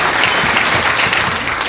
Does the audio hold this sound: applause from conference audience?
yes